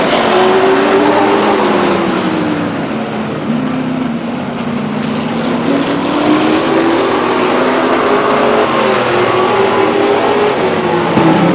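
Race cars lapping Stockton 99 Speedway, a continuous loud engine roar with rising and falling pitch as the pack sweeps past the grandstands, steady and close throughout with no talk.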